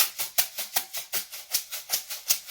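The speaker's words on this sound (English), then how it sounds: "Now you can make these at home by using some rice in a Tupperware box or" Rice rattling inside a homemade Tupperware-box shaker, shaken in a steady rhythm of about ten crisp, hissy pulses, close and moderately quiet with nothing else heard.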